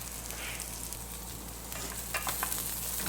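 Green onions and white onions sauté in a pan for a Jamaican vegetable rundown, a soft, steady sizzle with faint stirring scrapes, quiet and close.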